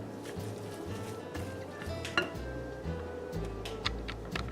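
Cauliflower tot mixture is stirred with cheese in a bowl, giving soft scraping and clinking of a utensil against the bowl that continues throughout at close range.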